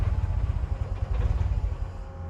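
A car engine on a race circuit idles roughly and unevenly, struggling to hold its idle with a lumpy, pulsing low rumble that fades toward the end, with no talk over it.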